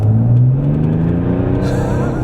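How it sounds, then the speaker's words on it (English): A turbo diesel Mercedes fitted with a bigger turbo accelerates hard at half throttle, its loud, close engine drone climbing steadily in pitch over about two seconds. "That was a half throttle, and it just threw me back and lit the tires up."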